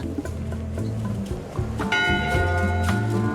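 A ship's bell rings in the video game Return to Monkey Island, a single clear metallic strike that sustains and decays over a low musical background, with no talking.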